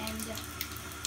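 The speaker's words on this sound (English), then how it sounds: "shower turns on." A bathroom shower turning on, water running steadily and close for about a second, with no talking.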